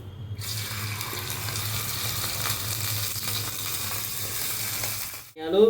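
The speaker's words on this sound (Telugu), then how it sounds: "ఇప్పుడు ఆయిల్లో వేస్తున్నాను." Naridi fish, washed beforehand, frying in hot oil for an Andhra-style fry, giving a steady loud sizzle and bubbling hiss for about five seconds before cutting off, with no talk.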